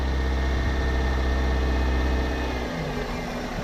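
A 2002 Toyota Corolla 1.8L engine with a lean P0171 fault idles close by, giving a steady low drone that shifts slightly in tone near the end.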